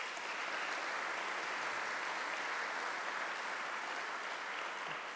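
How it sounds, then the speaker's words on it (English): Sustained audience applause at a county government address after a student music performance, dense and steady throughout without speech. "Let's give them a round of applause."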